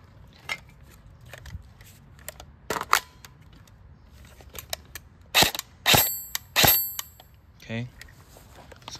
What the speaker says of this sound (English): We'll start out with just shooting the gun simply.